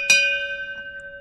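A single bell stroke in a stage performance of Macbeth, sharp onset followed by a long sustained ringing tone with steady pulsing decay, heard alone without talk.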